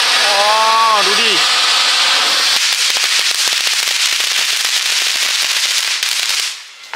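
Firecrackers and fireworks burst at a New Year 2024 countdown, a dense continuous crackling barrage of rapid pops and hiss that fills the whole stretch before cutting off near the end, with a brief whistling rocket at the start.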